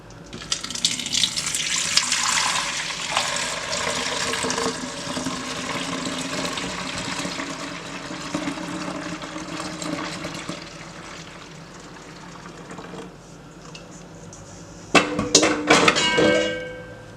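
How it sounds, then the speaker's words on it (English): Homemade Barbados Christmas sorrel drink is poured into a container in a steady, splashing liquid stream that runs loud and continuous, then eases off before a brief clatter and louder splashing near the end. "I'm gonna go ahead and pour it in here."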